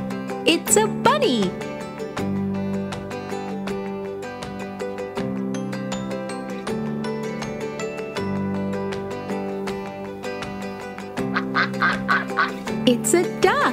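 A Fisher-Price learning toy plays a cartoon duck quacking over a bouncy music track, a series of short quacks at the start and again near the end, loud and close.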